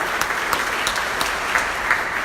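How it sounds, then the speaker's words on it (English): Audience applause at a job fair held at a Detroit mosque, a continuous even patter of many hands clapping at close range with a few sharper individual claps standing out. "I want you to give yourselves a round of applause from being from the great city of Detroit"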